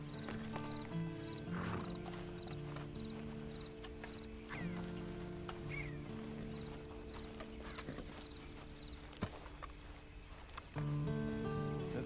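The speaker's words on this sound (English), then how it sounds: "Then you better get on this horse." A horse's hooves clip-clop steadily at a walk in the Western video game Red Dead Redemption 2, moderately loud under a bed of game ambience and music.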